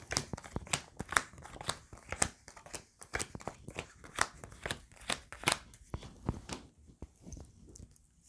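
A deck of tarot cards being shuffled and cut by hand: a rapid run of crisp, riffling slaps and taps up close, loud and rhythmic, thinning out toward the end.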